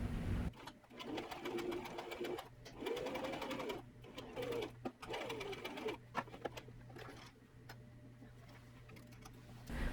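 A sewing machine stitches cotton dress fabric in rapid, buzzing runs broken by short pauses, with pigeons cooing faintly in the background.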